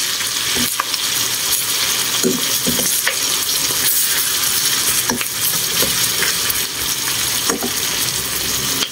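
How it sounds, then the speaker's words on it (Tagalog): Garlic, onion and tomato sauté in hot oil for pinakbet, a loud continuous sizzle under scattered scraping and clinking of a utensil stirring in the pan. "So, nilagay na natin yung bawang at sibuyas. Tapos, igisa na natin."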